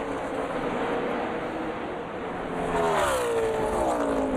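Kyle Busch's Xfinity Series race car roars past on the track at speed, its engine note swelling and shifting in pitch over a constant loud crowd and engine drone.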